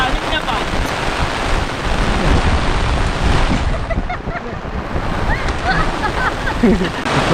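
Heavy monsoon rain during rice planting in the Konkan pours as a dense, steady broadband roar up close, with gusty wind buffeting the microphone, and people talk faintly beneath it.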